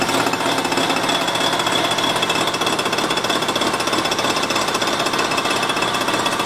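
A boring machine cuts into a cast-iron engine cylinder with a loud, continuous rapid chatter and grinding drone, steady and close, with no voices.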